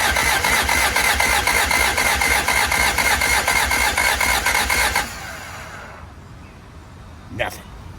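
Someone cranks an abandoned Te72 lift back's two-stroke engine over, a loud rapid rhythmic churning for about five seconds that stops without catching, followed by quiet room hiss and a brief faint sound.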